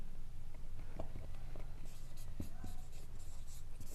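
Marker or chalk writing on a board during a physics lesson, a series of short scratchy strokes close up over a steady low background hum, with faint speech.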